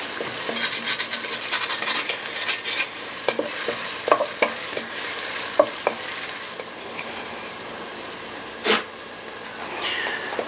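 Chopped onions and thyme sizzle in a hot pan, a steady frying hiss broken by occasional sharp clicks and scrapes of a utensil stirring against the pan.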